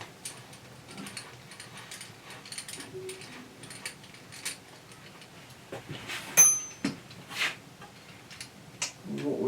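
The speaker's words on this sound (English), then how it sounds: "Undo the nuts, remove the grub screws." Nuts being undone and grub screws removed on a BM16 sliding table morticer, quiet scattered metallic ticks and clicks of a spanner and key at close range, with a few sharper taps.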